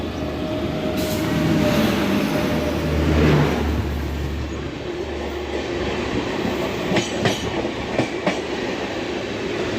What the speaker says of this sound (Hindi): देख लो दोस्तों सामने से कोई ट्रेन आ रही है